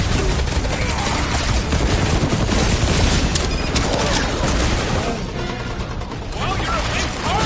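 Dense, continuous gunfire blasts and crashes fill a Guardians of the Galaxy video game battle, loud and relentless with rapid overlapping shots, and voices can be heard within the chaotic mix.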